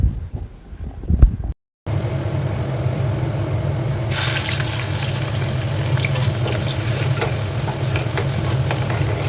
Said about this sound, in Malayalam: ഇതേപോലെ വെളുത്തുള്ളിയും ഇഞ്ചി ചെറുതായിട്ട് അരിഞ്ഞതും എല്ലാം ഒന്ന് ഫ്രൈ ആക്കി എടുക്കുകയാണ്